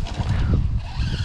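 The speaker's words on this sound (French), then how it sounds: "Quel freinage." A car brakes hard on a race track on its first run after a service, with a loud, close skidding tire squeal and engine roar. A brief burst sits over a continuous rumble.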